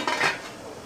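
A dhokla plate set down into a steamer pot in a home kitchen, giving one short metallic clink and scrape close by, then quiet.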